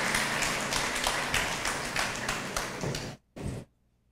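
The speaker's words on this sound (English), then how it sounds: "let's welcome Maria with a big hand," An audience welcoming a speaker with a big round of applause: dense, continuous clapping that stops abruptly, followed by one short final burst.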